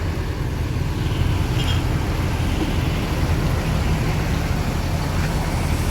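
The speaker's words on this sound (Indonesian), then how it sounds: "Ini baru tiba bus MAD 170 Land Blitar" A Rosalia Indah bus with a diesel engine rumbles at the terminal in Palembang, a steady low engine drone under a broad wash of traffic noise, with no talking.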